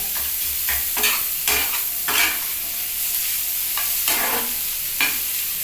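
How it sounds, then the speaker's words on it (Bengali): Fish roe bhorta fries in oil in a pan, with a steady close sizzle broken by repeated scraping stirs of the spatula, no voices. "আগেও তেল দিয়েছি এখনও তেল দিচ্ছি তাহলে কী হবে ভেতর থেকে এটা সুন্দর ভাজা হয়ে যাবে"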